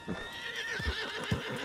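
A horse in Red Dead Redemption 2 gives a close, loud whinny with a wavering rising tone, while a few soft low hoof thuds sound beneath it.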